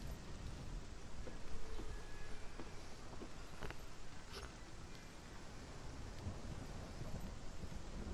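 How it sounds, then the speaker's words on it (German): Rain falling in the Hellblade: Senua's Sacrifice game world, a steady, moderately soft wash of drops with faint wind, continuous and alone for the whole stretch. "Es regnet."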